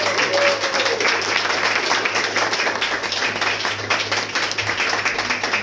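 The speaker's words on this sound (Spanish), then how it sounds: "Denle un aplauso fuerte al Señor." Loud, sustained clapping from a large church congregation fills the whole stretch, with a low hum underneath.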